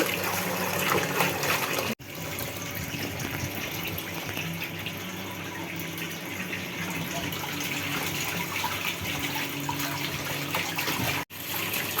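Leafy greens are rinsed under running water in a strainer to wash out sand before boiling for a mash; a loud, steady gush of water continues throughout, broken by two brief dropouts.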